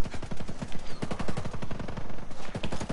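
Sustained automatic gunfire during a Ghost Recon Breakpoint raid, fast repeated shots in a steady rattling rhythm, loud and close throughout the short stretch.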